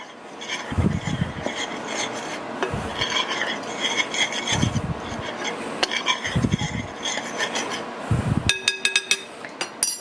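A utensil stirs baking powder, baking soda and salt together in a bowl, giving a series of soft scraping, rubbing strokes with light clinks, close by, ending in a brief metallic rattle.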